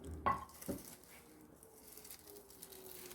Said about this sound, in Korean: 혼합해 둔 양념을 넣고 무쳐요